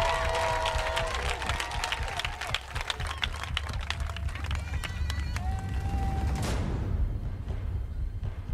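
A church congregation applauding and acclaiming the Holy Spirit, steady rapid clapping from a crowd with a loud voice speaking over it, fading down toward the end.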